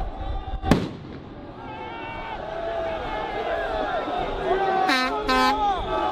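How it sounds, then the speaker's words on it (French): A tear gas grenade fired by riot gendarmes at a Gilets jaunes street protest gives one sharp loud bang early on, then crowd noise, horns and whistles carry on over the busy avenue. "les gendarmes mobiles vont rapidement tirer leur première grenade lacrymogène."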